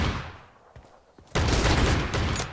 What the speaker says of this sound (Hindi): ये मुरजाना ये शॉटगन से मार रही है